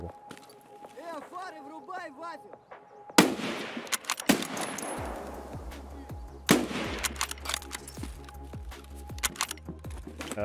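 Gunfire in the shooter game Escape From Tarkov, with a voice heard early on, then a loud blast and a string of sharp, closely spaced shots and impacts.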